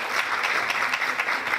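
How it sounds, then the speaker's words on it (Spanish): A large audience applauds at a Christian teaching event, dense steady clapping filling the room with no voice over it. "un aplauso grande para ustedes"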